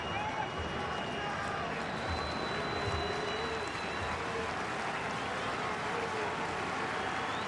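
Crowd noise at a Giants vs Cubs baseball game forms a steady, dense roar of murmuring fans from a packed ballpark, continuous throughout with a broadcast voice talking over it.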